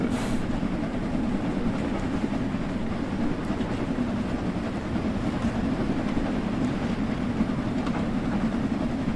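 In the Train Sim World 2 video game, a steam locomotive, the Jubilee, pulls away with its regulator wide open. A steady, rumbling, chuffing roar holds at even loudness throughout, with no voices.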